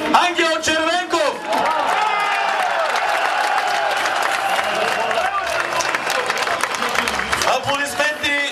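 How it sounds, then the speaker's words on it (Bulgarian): A crowd applauds and cheers steadily for the coach at Litex Lovech's football title celebration in Lovech, the club's third Bulgarian championship, with a voice announcing over the dense, continuous clapping. "Аплодисменти за треньорът, извел ни до третата титла на България, Ангел Червенков."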